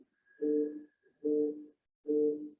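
Three short buzzing pulses from a mobile phone vibrating on a table, evenly spaced, rattling against the hard surface with brief silences between them, fairly close and alone.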